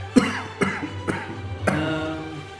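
Four short coughs from one person, spaced irregularly over a couple of seconds, at moderate loudness with no talking.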